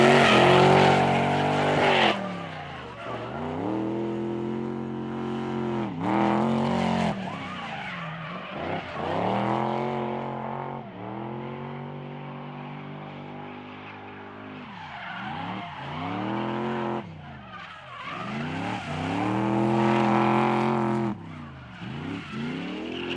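Nissan S14 and BMW E36 V8 drift cars skid around a track at a practice session: long howling engine revs mixed with tire squeal rise and fall in repeated waves, loud and close, with no talk.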